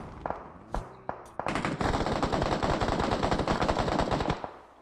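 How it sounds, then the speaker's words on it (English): Rapid automatic gunfire rattles loudly and continuously during a professional esports match in the Nigerian Pro League, opening with a few scattered shots before a sustained burst of dense, close machine-gun fire. "the bullets are just wrangling outside"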